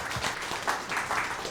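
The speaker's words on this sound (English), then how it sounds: "Let's give her a round of applause" An audience at a speech festival in Grenada applauds, a short burst of moderate clapping with no talk.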